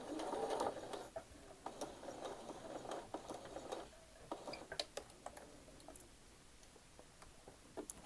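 A sewing machine runs in short, faint whirring bursts while stitching a quilt block, followed by scattered light ticks and clicks in a quiet room.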